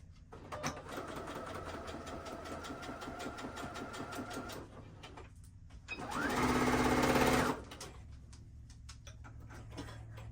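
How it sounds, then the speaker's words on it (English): A sewing machine runs in steady stitching bursts while quilting, with a louder, faster whirring stretch near the end, close by and mostly alone. "I was having a lot of issues with my sewing machine"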